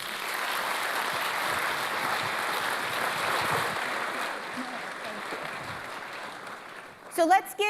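Steady, sustained applause from a seated audience at an economic outlook talk, filling the room for several seconds before fading, with a few brief voice sounds at the end.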